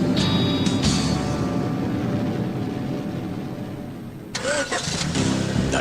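A Maibatsu Thunder car engine cranking and starting as a GTA radio advert effect, a sustained mechanical whir and rumble that drops off, then a brief burst of revving with other sounds layered over.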